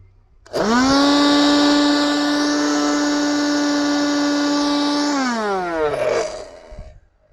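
A small car vacuum cleaner motor whirs at a steady high-pitched whine for several seconds, then winds down and sputters to a stop.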